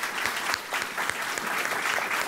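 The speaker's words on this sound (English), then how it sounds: "if we could just get one more round of applause" Polite applause from a symposium audience thanking the presenters, a moderate, evenly paced patter of clapping from a mid-sized room.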